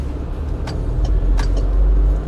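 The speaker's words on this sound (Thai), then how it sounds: "เดี๋ยวเรามาทดลองการขับเทลเบเซอร์คันนี้กันเลยดีกว่านะครับ" A 2013 Chevrolet Trailblazer 2.8 LTZ diesel 4x4 on a test drive, heard from inside the cabin as a steady low engine and road rumble with a few faint higher clicks and no talking.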